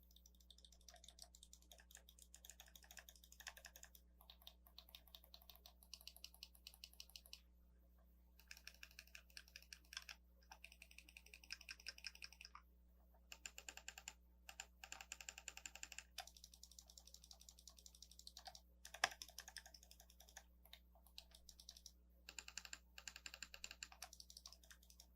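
A Corsair IronClaw RGB gaming mouse with Omron switches clicks close and quietly in rapid bursts, the flurries broken by short pauses.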